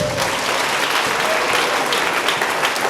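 A church congregation breaks into loud, sustained applause, a dense wash of clapping hands that fills the room with only faint voices beneath.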